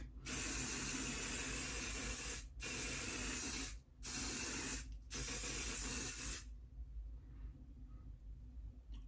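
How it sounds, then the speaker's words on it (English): Close hissing bursts of Revolution makeup remover spray onto a face, three long sprays of a few seconds each separated by short pauses, then quiet room tone. "we're just going to spray it on my face"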